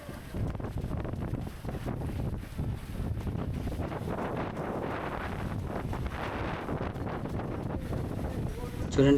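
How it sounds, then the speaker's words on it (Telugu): Heavy rain and strong wind on a Kerala coast near the backwaters, gusts battering the microphone in a dense, roaring rush with rain pattering throughout, loud and continuous, swelling sharply at the very end. "చూడండి వర్షం విపరీతమైన వర్షం"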